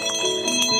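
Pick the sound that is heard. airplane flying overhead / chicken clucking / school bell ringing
school bell ringing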